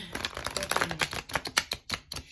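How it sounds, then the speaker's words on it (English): A deck of tarot cards being shuffled by hand, a rapid run of crisp riffling flutters and taps, close and fairly loud with no talking. "I don't know why I shuffled it twice"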